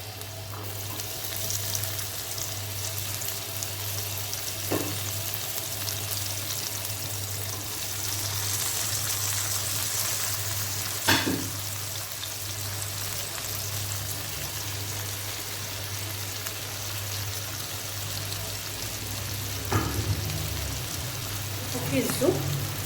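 Onion and peppers frying in a pan give a steady, moderate sizzle that runs the whole time, with a constant low hum beneath and a few brief clicks and stirs.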